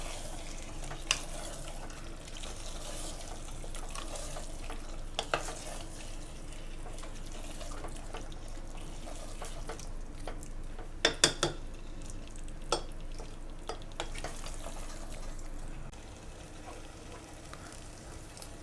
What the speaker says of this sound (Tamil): இப்போ நல்லா கறியை நல்லா பிரட்டி விட்டுக்கலாம்.